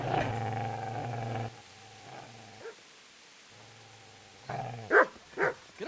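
A dog barks in the medieval game Kingdom Come: Deliverance, a few short sharp barks near the end after a stretch of low humming tones and near-silence.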